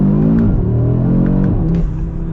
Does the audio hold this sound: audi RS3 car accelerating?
yes